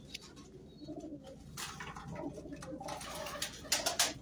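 Pigeons coo softly in a loft with bamboo around, low repeated throaty calls under faint background rustling and a few brief higher chirps.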